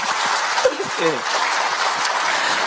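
Audience applause at a political panel discussion, a steady wash of clapping throughout, with a short spoken word breaking in over it.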